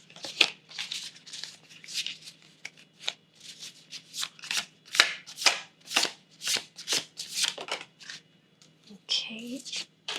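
Tarot cards are shuffled by hand in a quick run of crisp riffles and slaps, about a dozen bursts in steady rhythm, close and fairly quiet, with a soft voice speaking at times.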